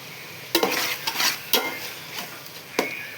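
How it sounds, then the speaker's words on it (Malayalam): A spoon mixes beef biryani masala in a pan, several distinct scrapes and clanks against the metal over a soft sizzle, close and loud, no talking. "അപ്പോൾ എല്ലാം കൂടി ഇട്ട് മിക്സ് ചെയ്തുകൊണ്ടിരിക്കുന്നുണ്ട്"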